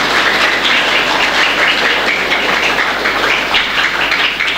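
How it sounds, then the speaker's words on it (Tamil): A crowd claps at the opening ceremony of a community centre at a Catholic church in Melvazhi. The clapping is loud and steady and continues unbroken throughout. "எல்லாம் ஜோராக கைத்தட்டுங்க."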